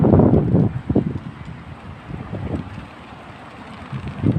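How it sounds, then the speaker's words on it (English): Gusty wind buffets the microphone beside busy Annerley Road near South Brisbane Cemetery, with low rumbling surges and traffic noise rising and falling throughout. "So it is windy and we are on a busy road."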